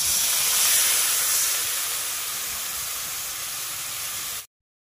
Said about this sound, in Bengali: এবারে জল দিয়ে নেব।